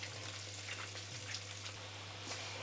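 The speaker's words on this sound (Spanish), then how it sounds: "Y las vamos a freír hasta que estén doraditas." Chicken and potato rings deep-frying in hot oil until golden, a steady close crackling sizzle with scattered pops and a low constant hum underneath, no talking.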